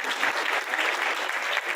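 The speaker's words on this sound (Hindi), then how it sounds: "सुमित जी की जो कविताएं हैं उसके हिसाब से तो तालियां नहीं बजा पा रहे हैं लगता है" Audience applause at a Hindi-language literary event welcoming a poet in Nowgong, Bundelkhand: steady, dense clapping from a crowd filling the whole short stretch at an even level.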